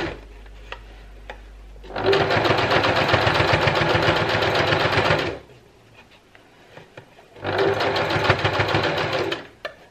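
A domestic sewing machine stitches top stitching on a DIY contour face mask, running in two loud, steady bursts of rapid mechanical whirring separated by a short quiet pause.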